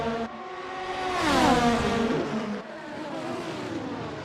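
In a racing video game, an F1 car spins out of the final corner, its engine screaming upward in a sharp rev sweep before dropping back to a lower, rougher drone.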